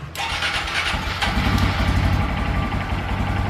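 A 2022 Honda Grom motorcycle with an off-road exhaust and no catalytic converter starts up and settles into a steady, close, loud idle with a rapid thumping pulse.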